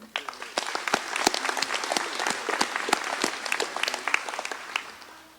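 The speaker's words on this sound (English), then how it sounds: "Let's give a big round of applause for all of these that are our partners" Applause from an audience at an annual members' meeting, a dense steady patter of many hands clapping for about five seconds with no talking.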